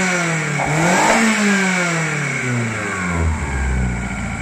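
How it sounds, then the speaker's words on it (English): Car engine fitted with a PWM fuel pump controller revving up as the driver accelerates a little, a close, loud mid-pitched rise in engine tone that climbs and then settles back down, with no talking. "if I accelerate a little bit, you see that the fuel pressure doesn't drop"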